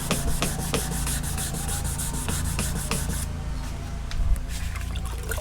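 Wet sandpaper on a sanding block rubs over car primer in quick repeated strokes, a close, rhythmic scratchy swish with short pauses, softer for the final stretch.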